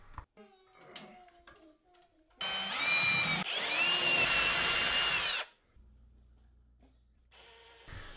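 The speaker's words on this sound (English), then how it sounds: "marked where I needed to drill holes for the lag bolts into the header" A power drill bores holes for 1/4-inch lag bolts into a wooden closet header for a barn door, a loud whining burst of about three seconds. Quieter handling noise and brief speech come before and after it.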